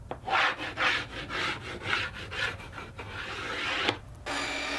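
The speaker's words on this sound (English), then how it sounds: "I'm going to use a straight edge and just draw a straight line along the edge." A pencil draws along a straight edge on a wooden board, giving a series of close, scratchy rubbing strokes that swell and fade, ending with a sharp tap and a quieter steady hiss.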